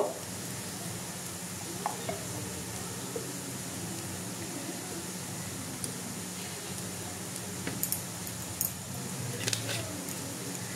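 Chicken chow mein, with a little tomato sauce added, is stirred in a hot pan, giving a steady soft sizzle with occasional light scrapes and clicks of the utensil throughout.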